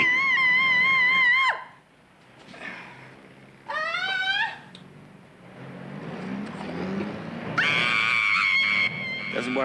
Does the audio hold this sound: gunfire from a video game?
no